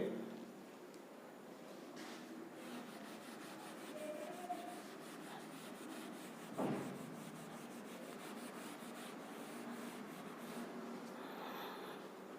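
Rubbing out an equation written on a board, a soft steady scrubbing and rasping that runs throughout, heard faintly beneath a teacher's voice.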